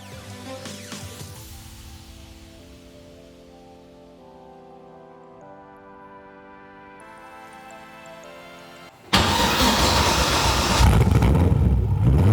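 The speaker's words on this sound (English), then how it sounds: "Yeah, that's a drift car, mate." A drift car's engine climbs through a long, strained rev with a rising tonal whine. It then bursts into a loud, roaring full-throttle blast near the end.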